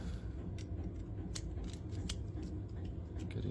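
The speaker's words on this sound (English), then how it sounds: "So you've got your C-clip pliers." C-clip pliers click and snip faintly during front hub and bearing assembly on a Supra, with scattered light metallic ticks over a low, quiet background hum.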